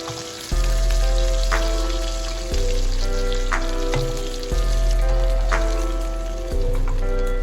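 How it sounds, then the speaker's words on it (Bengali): Pieces of rohu fish fry in hot oil in a pan, giving a steady crackling sizzle that repeats in sections with brief pauses, close and loud with no talking. "এবার আমি হালকা হাতে এটাকে আবার অপর পিঠটাকেও ভেজে নিচ্ছি।"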